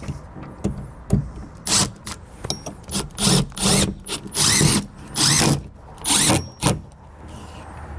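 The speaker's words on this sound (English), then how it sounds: "then we can come back with our drill and tighten them up" A cordless drill whirs in a series of short bursts, revving up and stopping repeatedly as it tightens the mounting screws of an electronic door lock on a 2021 Palomino camper, close by with no speech.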